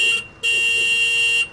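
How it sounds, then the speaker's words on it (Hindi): A truck horn blares in two loud blasts, the first short and the second longer, set as a sound effect in a night-time road horror story with no speech over it. "मैंने फिर 1-2 बार हॉर्न बजाया"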